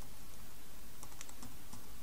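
A few quick keystrokes click on a computer keyboard, close and distinct over a steady background hiss, with no voice.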